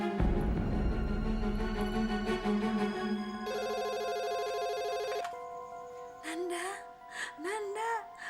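A telephone ringtone rings for an incoming call in an Indonesian TV drama, a steady electronic melody playing loud for several seconds before a voice briefly sounds over it.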